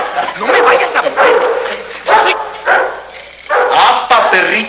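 Dogs bark and yip in loud, repeated bursts in a scene set on Venus in a Mexican comedy film, with shouting voices in between.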